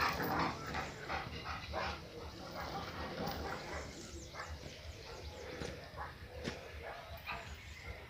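A dog barks and whimpers in a series of close yips and whines with uneven rhythm, while a person talks faintly in the background.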